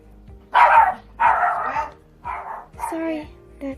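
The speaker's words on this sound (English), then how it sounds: "Sorry, that is my dog," A pet dog barks in a home while a plumber is visiting, giving a string of about five loud, close barks and yips in quick bursts over a low background.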